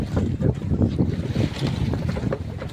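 Strong wind buffets and roars across the microphone in a constant, heavy rush, with no clear voices.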